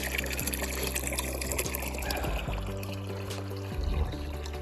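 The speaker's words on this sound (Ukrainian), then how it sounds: "Поки я тут набираю їм воду." Water pours steadily into a container with a constant rushing flow, a low hum running underneath throughout.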